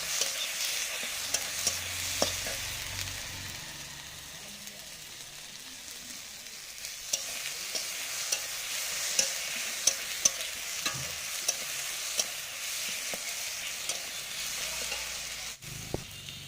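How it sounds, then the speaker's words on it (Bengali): Spice paste with chili powder being sautéed for katla fish curry, a steady soft sizzle with scattered stirring scrapes and occasional sharp spoon clicks against the pan, close and continuous throughout. "দিয়ে আরও কিছুক্ষণ মশলাটা কষাবো।"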